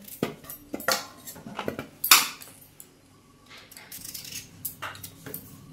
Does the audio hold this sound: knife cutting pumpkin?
yes